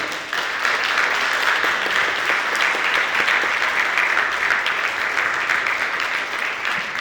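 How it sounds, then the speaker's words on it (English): An audience at a boxing weigh-in in Madison, Wisconsin claps steadily and loudly, with dense, even applause filling the whole stretch and no voices standing out. "Round of applause for Andrea."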